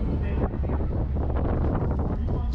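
Strong outdoor wind buffeting the microphone at a street gathering beside a soccer match, a loud continuous low rumble and roar that fills the whole moment, with faint voices mixed in underneath.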